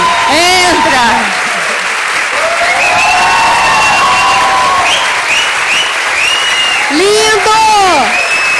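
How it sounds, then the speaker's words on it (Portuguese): A live studio audience at a Portuguese-language podcast taping breaks into sustained applause and whoops of cheering to welcome a guest interviewee, loud and close throughout, with excited shouted voices rising over the clapping. "Agora vocês podem aplaudir."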